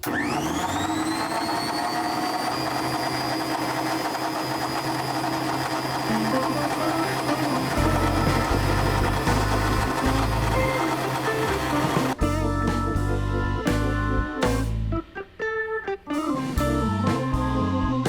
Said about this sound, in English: So you just saw Bob threading a bolt